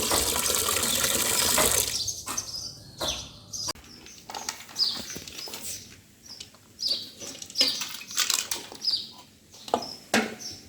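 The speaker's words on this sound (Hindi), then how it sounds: "अब हम गुटची को, जिसको हमने पीसेस में डिवाइड कर दिया था, अच्छी प्रकार से जल में धो लेते हैं" Water splashes and runs as pieces of guduchi (giloy) stem are washed by hand, first a steady tap-like rush, then irregular close sloshing bursts, no talk.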